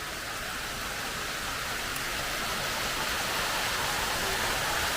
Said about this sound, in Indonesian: Ini cerah sebetulnya, tapi turun hujan